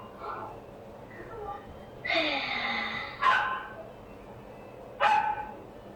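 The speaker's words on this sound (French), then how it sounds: "lui aussi il y a un chien qui jappe" A dog barks in the background in short separate bursts, about three loud yelps spread over several seconds, with quiet room sound between them and no talk.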